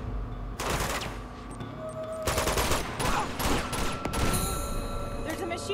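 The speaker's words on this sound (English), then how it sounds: "There's a machine gun over there!" Machine gun fire in the Uncharted: Among Thieves game: rapid, loud bursts of automatic shooting come in several volleys, with brief ringing tones and sustained background noise between them.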